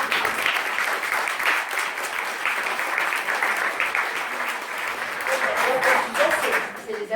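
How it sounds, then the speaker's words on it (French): Audience at a conference on depictions of the female body in monotheistic religions gives a sustained round of applause, with many hands clapping steadily at moderate loudness, voices mixed in. "C'est les applaudissements"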